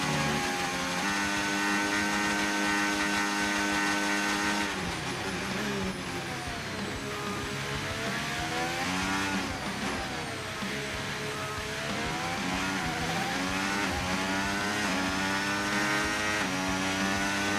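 F1 car engine racing in F1 25 from the cockpit view, a loud high-revving whine that climbs and drops repeatedly through gear changes and corners, continuous and close, with no voices.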